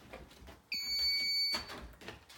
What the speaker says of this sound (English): When you break the barrier, the alarm goes off.